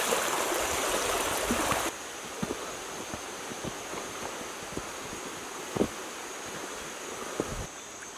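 A jungle river runs along a reserve boundary in Costa Rica's Corcovado area. Its rush is steady and moderate, louder for the first two seconds, with scattered small knocks and clicks over the flow.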